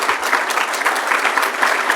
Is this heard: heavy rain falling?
no